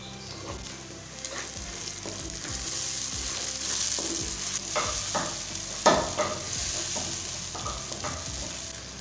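Ground tomatoes fry in a pan with onions for a daal mash dish, a steady sizzle broken by repeated scraping strokes of a spoon stirring, close and clear with no voices.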